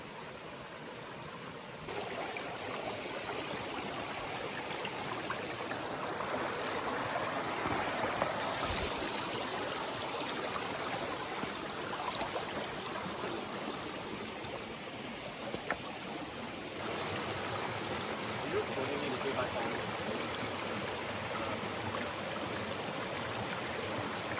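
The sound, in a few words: Williams River creek flowing over bedrock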